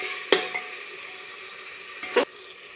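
Spices roasting in a pan under a steady soft sizzle, with two distinct scraping stir strokes about two seconds apart.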